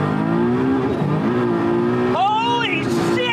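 A street-driven performance car, one of a GT-R, Audi, Evo or Barra contender, revs hard toward 8,500 rpm under full acceleration, its loud rising engine note climbing through gears with a brief shift dip, while voices talk over it.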